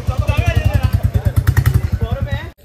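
Motorcycle running on an Independence Day group ride, its engine a steady low pulsing thump close by throughout, with a voice talking over it and a brief clatter before it cuts off.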